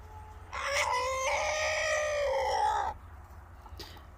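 A rooster gives one loud, close crow lasting about two and a half seconds, rising then trailing off, with quiet outdoor background before and after.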